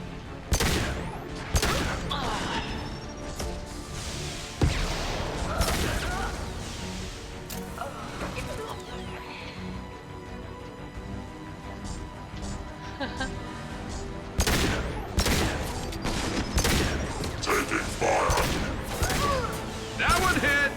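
Gunfire and explosive booms during combat in Mass Effect 2, with bursts of shots and heavy impacts recurring through the clip amid game noise.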